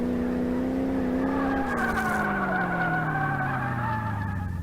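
Video game car engine in Car Mechanic Simulator 2018, a steady droning engine note that rises slightly then slowly drops in pitch, with high tire squeal and skidding layered on top, continuous and loud.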